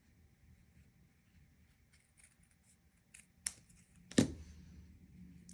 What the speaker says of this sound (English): Just take a couple of pieces of felt and cut a generic little wing shape.